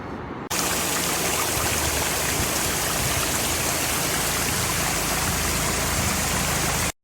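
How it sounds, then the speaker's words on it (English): Shoshone Falls, a 212-foot Idaho waterfall framed by rocky canyon walls, roars as a loud, steady broadband rush that starts abruptly and holds unchanged for several seconds before cutting off, with no voices. "Shoshone Falls is a 212-foot behemoth that's dubbed the Niagara of the West"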